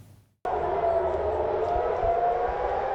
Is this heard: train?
no